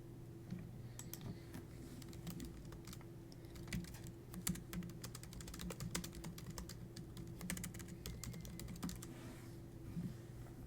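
Rapid typing on a computer keyboard, with steady clusters of crisp, close key clicks running continuously over a low background hum and no talking.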